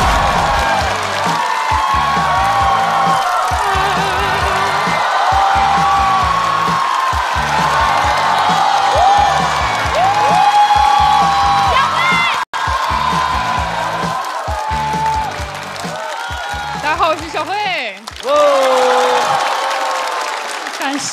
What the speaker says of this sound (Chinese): 掌声欢迎赵小慧。